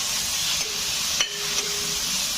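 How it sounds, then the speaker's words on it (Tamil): Ginger garlic paste sizzles steadily in a pan with green chillies, a loud continuous frying hiss with a few faint stirring scrapes and no talking. "இப்போ இதில் நம்ம அரைச்சி வச்ச மொத்த இஞ்சி பூண்டு விழுதையும் இதில் போட்டுடலாம்."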